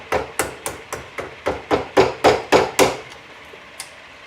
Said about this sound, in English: I'm just going to chisel this out now that I got the lines cut